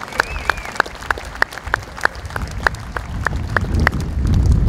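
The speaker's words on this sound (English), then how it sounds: "Give them a round of applause." An audience gives a round of applause at a 50th anniversary program, steady dense clapping that swells toward the end, with no talk over it.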